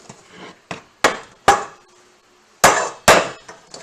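A cooking pot is set down on a back stove burner, giving several sharp metallic clangs and knocks in irregular succession, close and fairly loud, with no talking.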